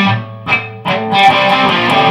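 Distorted electric guitar plays a riff, four heavy, sustained chords struck one after another, played alone and up close.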